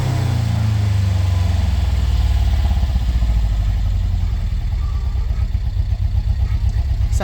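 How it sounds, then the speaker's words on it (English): A 1967 Alfa Romeo Giulia Duetto Spider with a rebuilt four-cylinder engine and rebuilt carburetors runs loud and close, giving a steady throbbing exhaust pulse that settles from a deep rumble into a quick, even beat. "One of the best sounding 4-cylinder engines ever made"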